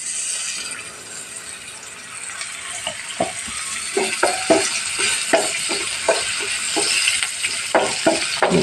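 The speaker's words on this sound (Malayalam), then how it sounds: "വെളിച്ചെണ്ണ ഒഴിച്ച് ഇത് നല്ല ചുമക്കെ വറുത്തെടുക്കണം." Ginger frying in coconut oil for Onam inji curry, a steady broad sizzle with a rhythmic series of scraping stirs against the pan, growing slightly louder, with no talking.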